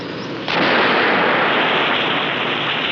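Solvent vapors ignite in a paint manufacturing plant, a sudden loud blast at about half a second giving way to a dense, roaring rumble that persists without letting up.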